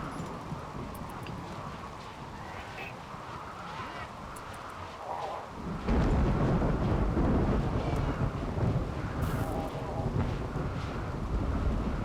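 A thunderstorm in the video game RimWorld: steady rain and wind, then a loud rolling thunder rumble that swells after a quiet stretch and keeps roaring, with no speech over it.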